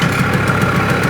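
A Pony Buba moped with a pull-cord start idles close up, a loud, steady small-engine putter with an even, rapid beat.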